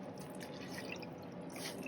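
Water drips steadily from a soaked knitted shawl being squeezed out against the side of a basin, a soft continuous trickle of wet patter at close range, no voices.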